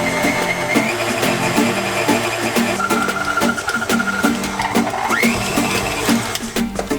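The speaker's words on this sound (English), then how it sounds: "the mix has now to be kneaded either by a kitchen machine or by hand" A kitchen machine kneads ravioli dough of flour and olive oil, its motor humming steadily with a regular rhythmic knocking of the dough hook, loud and close, with a rising whine near the end.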